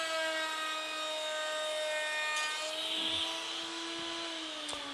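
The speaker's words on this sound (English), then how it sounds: "we're taking off almost 3/8 of an inch of lumber in one pass" Lumber being cut along its long grain in a single pass with an INCRA Wonder Fence setup, taking off nearly 3/8 inch from the edge: a steady, loud machine whine with a rasping cut running the whole time and no talking.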